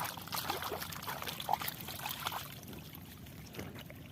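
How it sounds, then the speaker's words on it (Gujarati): Irrigation water flows from a channel into a farm field plot, making a soft, steady trickling and pouring wash, faint and continuous with small splashes and no talking. "આ બીજા કેરામાં પાણી જાય છે"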